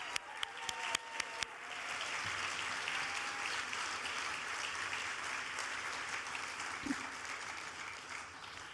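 Scattered claps at an awards gala grow into steady, moderately distant applause from a convention audience that holds evenly for several seconds.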